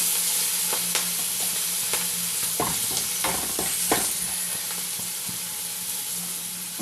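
Green peas fry in hot oil with cardamom, cinnamon and cloves for a katla fish curry. A steady sizzle is broken by a cluster of sharp clattering stirs near the middle.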